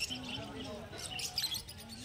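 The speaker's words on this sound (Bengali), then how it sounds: "এখানে দেখতে পাচ্ছেন লাভবার্ড রয়েছে, লুটিনো লাভবার্ড" Lutino lovebirds at an outdoor bird market give faint, high chirps and short calls, scattered and quiet over a low murmur of market noise.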